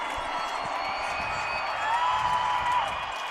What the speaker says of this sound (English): The crowd is alive here tonight.